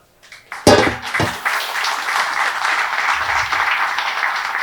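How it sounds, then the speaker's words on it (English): Applause from the audience at an IT Expo talk: a few sharp claps open it, then the clapping swells into sustained, even applause that carries on to the end. "Round of applause for Mike."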